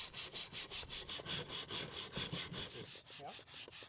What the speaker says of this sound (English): A circular steel brush on an electric grill works well for irregular surfaces like these.